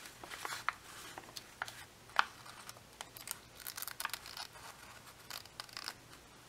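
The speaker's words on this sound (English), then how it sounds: "Then I'm just gonna cut this little piece off." Small piece of paper being cut for a junk journal, a scatter of faint, close snips and crinkles with brief sharper clicks, quiet and without talk.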